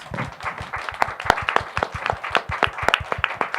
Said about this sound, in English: Let's give our panelists a great round of applause